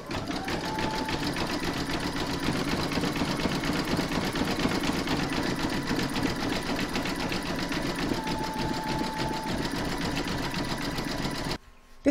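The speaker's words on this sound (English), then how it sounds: "We're now going to pop that into your machine and stitch round number 3." Embroidery machine stitching a zigzag satin edge around a pig applique in the hoop, a steady fast close mechanical whirring that runs without a break before stopping abruptly at the end.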